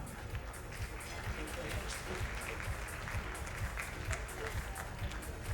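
Audience at a Grace Jewellers charity event for UNICEF with a celebrity guest, clapping in a steady, dense wash of applause that holds level throughout, with crowd murmur and a voice mixed in underneath.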